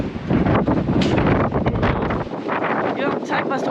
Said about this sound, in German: und es ist windig.